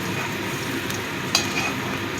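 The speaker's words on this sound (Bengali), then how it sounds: "আর যেগুলো আছে সেগুলো একইভাবে ভেজে দেবো।" Pieces of paneer fry in ghee in a kadai, a steady close sizzle with a brief light clink of a utensil partway through.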